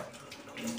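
Tap water runs over prawns being washed in a kitchen sink, a brief soft splashing trickle.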